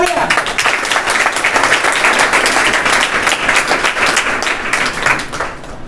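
Audience at an award ceremony for NEET 2024 selected students in Kawardha claps in a loud, sustained burst, a thick even patter of many hands that fades away in the final moment.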